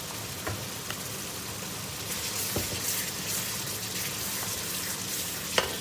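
Water hitting a hot pan of zucchini and tomato masala with curry leaves sets off a steady, dense sizzle like rain, with occasional small pops and a sharper crackle near the end, no voices.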